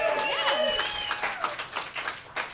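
Comedy club audience clapping at a Chicago stand-up show, a scattered smattering of claps that begins with a few hands and trails off over a couple of seconds, with a voice speaking faintly over the top.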